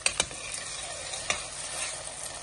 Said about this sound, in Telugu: స్టవ్ ఆన్ చేస్తున్నా. ముందర ఆనియన్స్ వేస్తున్నా